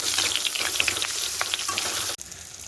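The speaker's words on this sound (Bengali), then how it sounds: "কড়াইয়ের তেল গরম হয়ে গেছে, এবার এর মধ্যে দিয়ে দেবো কেটে রেখে হলুদ মিশিয়ে রেখেছিলাম বেগুনের টুকরোগুলো।" Eggplant pieces coated in turmeric sizzle and crackle loudly in hot oil in a kadai, a dense, continuous frying hiss with popping bursts that drops off abruptly near the end.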